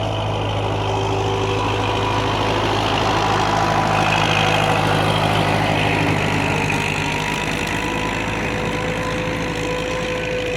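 A YuMZ tractor engine drones steadily while ploughing a garden in spring with its differential lock engaged, a loud, close, continuous diesel rumble with a humming low tone and no speech.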